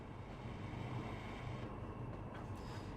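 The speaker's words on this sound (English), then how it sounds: "I think there's like a really old train" An old train in the simulator Trainz Driver Journeys 2, on an Iberian route, gives a continuous low mechanical rumble heard from inside the cab, steady and unaccompanied by speech.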